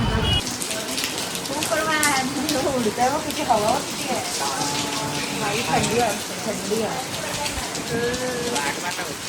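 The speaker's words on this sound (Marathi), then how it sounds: "ले बारिश वापस आ गई" Rain pours down steadily on a rainy day at a new home, a dense continuous hiss heard close by while people talk over it throughout.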